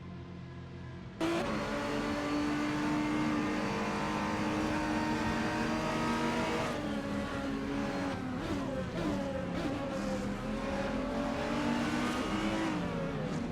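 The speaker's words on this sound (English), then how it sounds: "V4L3NA from Team Is That a Podium just came out of the pits and is currently in position 18." GTR race cars lap Misano in a racing video game. A loud, sustained engine drone rises and falls in pitch as the cars accelerate and shift, running unbroken for most of the stretch without speech.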